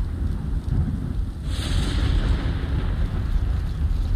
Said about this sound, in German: Aber das Gewitter, was ist denn da, ey?